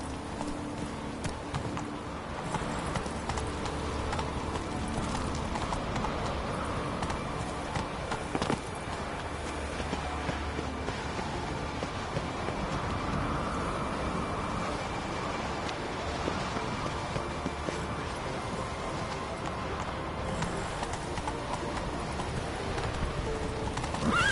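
Roach, a horse in The Witcher video game, gallops and trots in a steady run of hoofbeats lasting over twenty seconds, with occasional whinnies and birdsong in the background.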